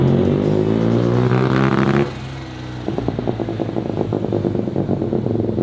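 A 650cc Mazda single-rotor engine car with a turbo and Supra blow-off valve runs loudly, first a droning, humming rev, then a brief drop before a choppy, rapidly pulsing idle-like burble close to the microphone.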